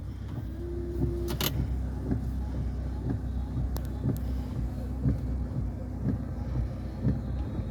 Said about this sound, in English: let's go ahead and test the wipers out